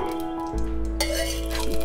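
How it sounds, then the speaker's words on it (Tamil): Mustard seeds crackle and sizzle steadily in about four spoons of hot oil in a pan, growing busier partway through, with a faint clink of metal utensils. "ஒரு நாலு ஸ்பூன் எண்ணெய் ஊற்றிருக்கேன் அதுக்கு தேவையான கடுகு போடுறேன்"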